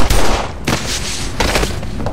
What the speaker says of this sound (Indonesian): setelah Reddington membunuh Morozov dengan beberapa kali tembakan